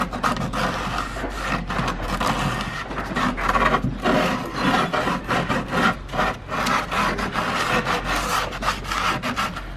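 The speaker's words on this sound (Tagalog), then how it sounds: "So ito gagawin natin is lilihayin natin after nun." The edge of a hole-saw cut, made for an exhaust fan on a DIY pisonet cabinet, is sanded smooth with sandpaper, giving a continuous close rubbing and rasping in uneven back-and-forth strokes.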